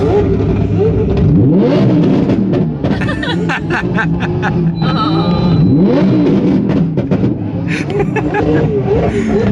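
Several JDM car engines rev loudly and repeatedly, roaring up and down amid a busy crowd with people talking and laughing nearby.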